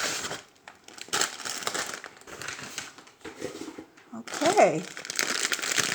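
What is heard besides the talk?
crinkling plastic mail packages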